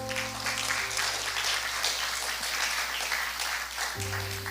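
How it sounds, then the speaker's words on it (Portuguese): A church congregation applauds in a steady, dense wash of clapping that holds evenly throughout, with a low sustained tone humming beneath and no voices over it. "Vamos aplaudir o senhor?"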